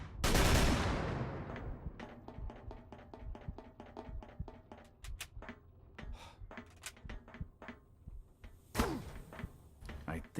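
A burst of gunfire from Call of Cthulhu, led by one loud shot, then a rapid run of sharp clicks and thumps, with another loud shot near the end over faint background.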